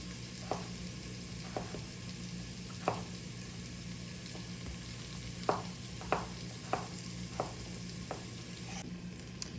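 Mushrooms sautéing in olive oil in a pan, a steady low sizzle with occasional sharp clicks and taps scattered through, fairly close and moderately quiet, with no voices.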